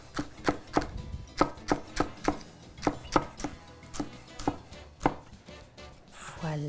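Green onions being chopped with a knife on a board for a salmon poke bowl, about fifteen crisp, evenly paced thuds, close and clear with no voices.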